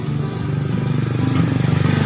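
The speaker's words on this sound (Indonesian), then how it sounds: "enek suara motor wis ra apa-apa" Nearby, a motorcycle engine putters with a steady, rapid low pulsing that builds slightly louder, heard outdoors at the edge of a forest near wild pegagan plants, with no voices over it.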